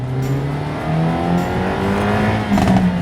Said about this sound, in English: They've tuned that turbocharger for high in the rev range.